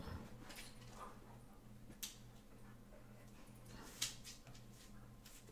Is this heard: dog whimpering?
yes